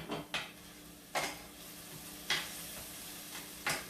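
Onions frying in a pan give a steady soft sizzle, broken four times by a utensil scraping and stirring against the pan.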